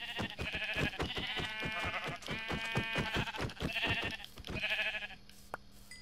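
Sheep in the Minecraft video game bleat repeatedly in quick succession, overlapping rhythmic calls that are loud and close, with steady game background beneath and no talking.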